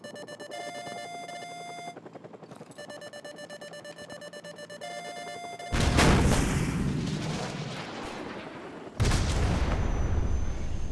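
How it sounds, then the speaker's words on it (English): Call of Duty: Modern Warfare Remastered: a Stinger missile launches at a helicopter with a sharp loud whoosh-boom. Steady lock-on tones beep before it, and a second heavy blast follows a few seconds later. "grab another Stinger and fire again"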